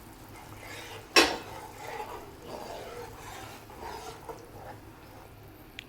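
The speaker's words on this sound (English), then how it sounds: "At this stage again you need to stir fry it for around 2 to 3 minutes." Tomato puree for butter chicken masala is stirred in a pan, with one sharp metal clank of utensil on pan followed by softer scraping and stirring sounds nearby.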